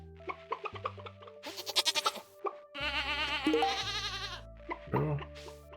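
Several goats bleat in Stardew Valley, a farming video game, with short repeated calls and a longer wavering bleat over light background music, no talking.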